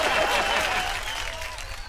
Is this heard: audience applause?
yes